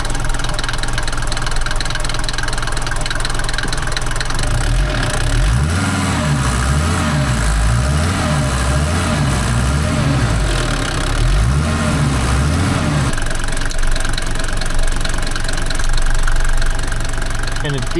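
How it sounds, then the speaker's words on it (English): An old van's engine runs steadily and loudly nearby, with a rougher, pulsing knock in the middle stretch as it is worked. A voice speaks over it at times. "Suppose I best fire up and see if I can find a problem."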